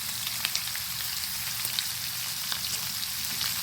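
Two and a half pounds of bacon frying in a pan over medium-high heat, a steady dense sizzle with scattered crackles and pops running evenly throughout, close and alone.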